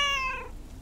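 A single cat meows in the video game Lake, a clear, close, falling tone that fades out quickly.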